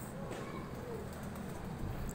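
Pigeons coo softly in a low, continuous murmur, with faint chirps over a steady background hum, heard indoors or close by.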